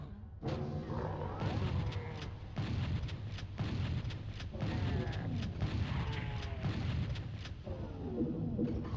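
Rocket blasts in Final Doom, a dense barrage of loud, booming explosions bursting one after another, with no pauses between the hits.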